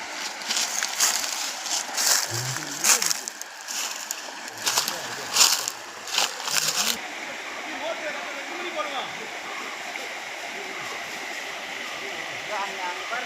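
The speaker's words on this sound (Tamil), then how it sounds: "சார் இந்த மாதிரி ஃபால்ஸில் மேலேருந்து வந்துட்டுருக்கு." Water cascades down from above like a waterfall on a farm, a steady rushing hiss that is mixed with loud bursts and voices at first, then continues alone.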